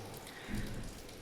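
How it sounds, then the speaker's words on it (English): Steady rain coming down outdoors, a soft continuous hiss of drops with a slight swell halfway through, no voices. "It's actually a beautiful rain that's coming down"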